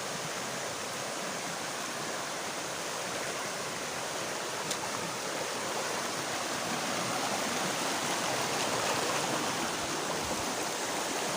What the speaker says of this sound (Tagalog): Makita nyo, mga idol, oh, yung agos ng tubig, napakalakas